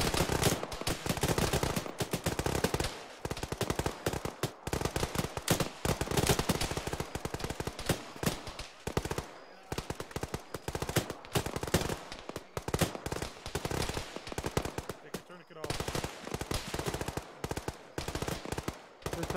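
Rapid bursts of machine gun fire crackle almost nonstop in the video game Arma, loud and dense, with short pauses between volleys.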